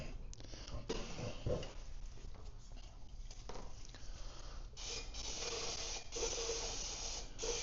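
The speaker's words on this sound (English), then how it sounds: "Clean that up with a little bit of brake clean." Brake cleaner hissing from an aerosol can onto metal parts during trailer fabrication work, a steady close spray with a few louder bursts and faint clatter underneath.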